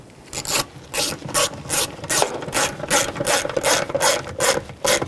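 A ratchet tightens a screw under the driver door handle of a 1999-2007 Chevy Silverado 2500HD, giving about a dozen quick, close, rasping clicks in a steady back-and-forth rhythm. No voices accompany it.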